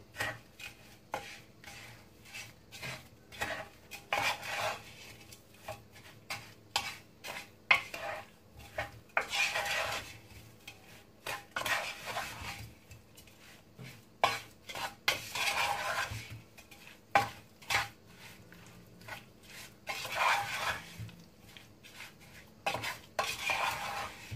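A spoon stirs apricots and pectin jam sugar in a pot, making repeated scraping, clinking knocks against the metal in irregular bursts with short pauses, close by and with no one talking.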